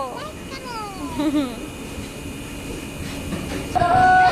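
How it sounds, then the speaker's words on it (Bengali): A local train rumbles in the distance and draws closer during heavy rain, its steady roar swelling and a bright whining tone rising near the end, with faint background voices. "ওই যে ট্রেন আসছে অনেক দূরে"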